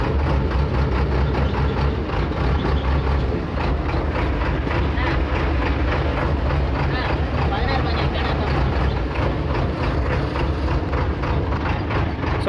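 A 2006 JCB machine's diesel engine runs and moves in gear, a loud steady low rumble with rhythmic mechanical knocking throughout.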